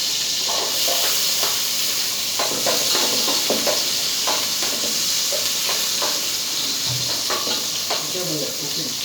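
Garlic sautéing in a pan for squid adobo gives a steady, bright sizzle and hiss throughout, with light stirring and scraping clicks on top.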